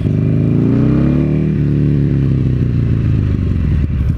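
Buell XB9R Firebolt motorcycle with a torquey fuel-injected engine, revving loudly and close by, its pitch climbing then easing back in a steady throaty roar with no voices.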